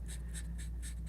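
A marker scribbles color onto paper for a handmade card, a series of about five quick rhythmic scratchy strokes, close and quiet with no talking.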